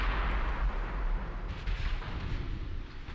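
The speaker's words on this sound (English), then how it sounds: "Oh, that is a big salvo." A big naval gun salvo booms in the warship battle game Ultimate Admiral Dreadnoughts, a heavy rumbling blast at the start that trails into a lingering, fading roar with no voices.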